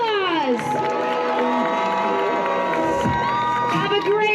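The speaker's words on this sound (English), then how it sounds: "Let's give them one more round of applause." A crowd at a cosplay competition during a fan convention in Denver cheers and whoops with some clapping, while an announcer's amplified voice carries over the noise.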